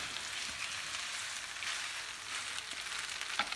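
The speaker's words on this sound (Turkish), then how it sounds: "Fettuccine'yi hemen şöyle boşaltıyorum. Hemen karıştırıyorum." Fettuccine with salmon, cream and garlic tossed in a large frying pan, a dense steady sizzle and hiss with soft stirring movements and a small clack near the end, no talking.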